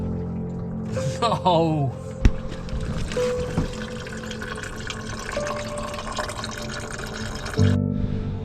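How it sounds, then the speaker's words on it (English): Coolant escapes from leaking pipes on a Porsche Cayenne cooling system pressurised to 10 psi, a steady close hiss and trickle running throughout while a voice briefly exclaims. "We're at 10 psi and I can already hear coolant leaking."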